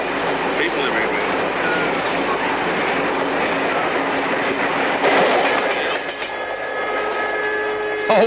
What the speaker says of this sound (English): that was the Indian Pacific train